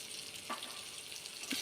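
Onions fry in a pan as a Bengali dal is cooked, a faint steady sizzle with a couple of soft stirring clinks.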